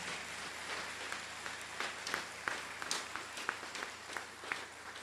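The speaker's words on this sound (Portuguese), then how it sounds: "Uma salva de palmas, né?" Scattered, soft applause from a church congregation during a Good Friday homily, individual claps standing out irregularly over a quiet room.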